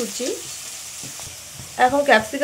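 Chopped capsicum and carrot stir-fried in a pan for mutton chowmein, with a steady close sizzle, scraping stirring strokes and a louder burst of frying near the end.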